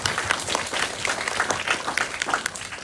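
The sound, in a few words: audience applause at a film screening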